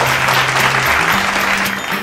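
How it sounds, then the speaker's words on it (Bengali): Team at a college quiz and game show applauding themselves, steady dense clapping throughout, loud and close, with a faint voice underneath. "সুতরাং টিম এ জোরে হাততালি নিজেদের জন্য"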